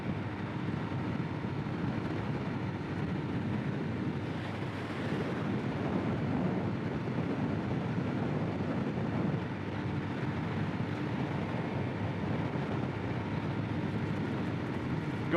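A 2022 Kawasaki KLX 300SM motorcycle cruises into a headwind of about 10 mph. The engine drone stays steady and is largely buried under constant wind buffeting on the microphone, with no one speaking.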